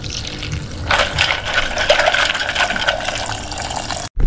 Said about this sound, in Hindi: इसमें जा रहा पानी.